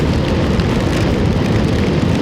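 Heavy monsoon rain pours steadily over a flooded, muddy mini farm, a dense, loud and unbroken hiss and patter with no voices.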